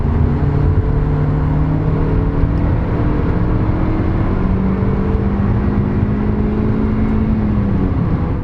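A Mazda MX-5 with a new track alignment cruises on the motorway, a steady loud cabin drone of engine and road roar with slowly rising and falling engine tones.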